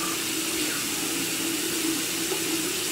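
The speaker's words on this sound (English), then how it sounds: "So right now, I'm gonna wash this off my face." Tap water runs steadily from a faucet into a sink while a face is washed, a constant loud hiss of flowing water with no break across the few seconds.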